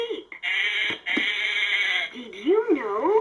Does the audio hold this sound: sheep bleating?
yes